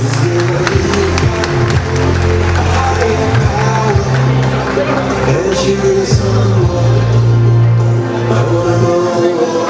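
Audience applause and scattered cheers at a police award and solidarity night in London, a dense, steady wash of clapping from a large crowd that carries on without a break.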